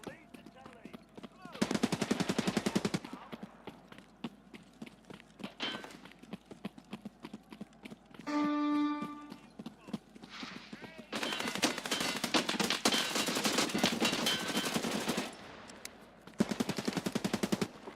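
Gunfire in the Escape from Tarkov Arena video game comes as several loud bursts of rapid automatic fire, separated by quieter stretches. A short tonal beep and other game sounds fall between the bursts.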